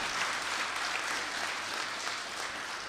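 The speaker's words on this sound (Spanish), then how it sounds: "Démosle por favor un aplauso a nuestros invitados del día de hoy" Sustained applause from an audience at an intergenerational climate panel, dense and even clapping throughout without talking.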